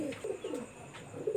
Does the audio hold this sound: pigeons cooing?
yes